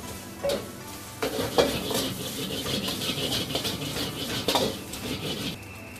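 Fried rice with shrimp and chicken sizzles steadily in a hot pan, with a constant crackling hiss, scraping stirs and occasional utensil clinks against the metal.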